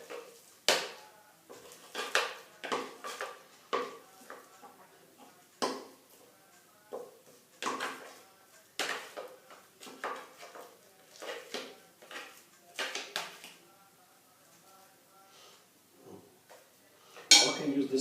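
A big spoon moves shredded carrots into a mixing bowl for carrot cake, producing scattered close clinks, knocks and scrapes against the bowl at an uneven pace over a quiet background.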